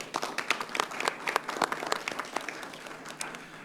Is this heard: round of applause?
yes